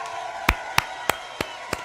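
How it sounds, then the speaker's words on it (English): An audience claps as heard over a video call during a quarantine concert: five sharp, evenly spaced claps that are thin and slightly distant, over a steady hiss of background noise. "I can hear the clapping."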